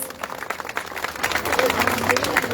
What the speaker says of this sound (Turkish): alkışlarınızla bir kez daha teşekkür ediyoruz